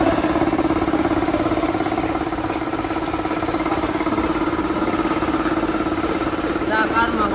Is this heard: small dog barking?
no